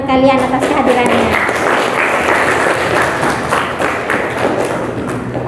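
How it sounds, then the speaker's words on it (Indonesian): Students applaud together in a classroom, a steady burst of clapping that holds for several seconds at close range and then tapers slightly. "Tepuk tangan dulu semuanya untuk kalian atas kehadirannya."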